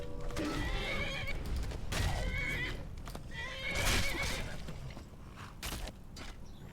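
Horse in the Skyrim video game neighing and whinnying several times in quick succession, loud and close, mixed with hoof clip-clop and creaking, no talk.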